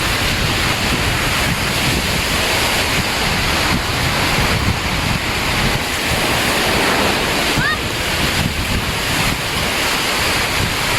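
Loud, continuous roar of sea waves breaking on a white sand beach at Sipalay City, with heavy wind buffeting the microphone throughout.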